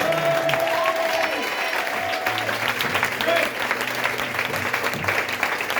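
A church congregation applauds during a sermon, sustained dense clapping at a steady level, with voices and a few tonal sounds mixed underneath.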